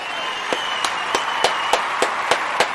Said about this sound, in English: Clap it up for them, clap it up.